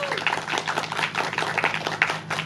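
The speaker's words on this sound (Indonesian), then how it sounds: "Tepuk tangan." An audience claps in scattered, uneven bursts at an Indonesian stage reading of a literary work, with dense overlapping hand claps at moderate loudness.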